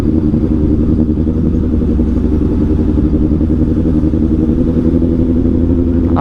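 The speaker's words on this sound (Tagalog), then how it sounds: "Angas ng tunog ng motor natin eh." A motorcycle engine thrums steadily and loudly at close range while riding, a continuous pulsing mid-pitched drone with slight clatter, and no talk over it.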